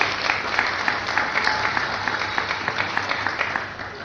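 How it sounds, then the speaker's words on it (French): Audience at an official launch event in the DRC applauds steadily as a woman comes forward, with dense, continuous clapping and cheering holding at an even level for several seconds with no speech. "On ne peut pas acclamer pendant qu'elle avance, ça l'encourage."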